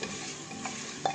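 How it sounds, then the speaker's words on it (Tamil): Chopped tomatoes sautéed in a pan for mutton biryani, a steady close sizzle with a couple of soft stirring scrapes, brief and without talk. "இதை ஒரு வதக்கிட்டு நம்ம அரிஞ்சு வச்சுட்ட தக்காளி அவ்வளோத்தையும் போட்டுருவோம்."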